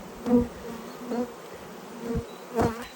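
A bee buzzing close by in short bursts, four separate buzzes spaced across a quiet background.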